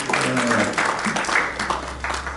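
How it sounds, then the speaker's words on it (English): A church congregation claps in a dense, steady patter of applause, fairly close, with some voices mixed in underneath. "Give them a round of applause."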